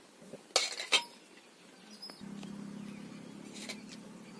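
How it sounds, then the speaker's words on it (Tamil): A few utensil clinks and scrapes, then a soft steady sizzle begins as a wet ground herb paste hits hot oil and keeps bubbling quietly. "இப்போ நான் அரைச்சி வச்ச விழுதை வந்து அதில் போட்டுக்கிறேன்"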